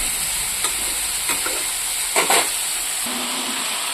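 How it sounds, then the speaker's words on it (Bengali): Steady, close sizzling of spiced eggplant frying in a hot pan, with a few brief scraping stirs breaking through the hiss. "এখন আমি এটাকে ভাজা করছি।"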